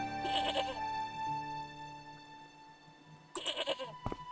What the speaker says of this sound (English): Oh, a very angry looking goat.